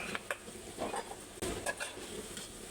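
Straw mushrooms and canned fish being stir-fried in a pan: faint scraping stirs and soft sizzling in a few irregular strokes, quiet and close.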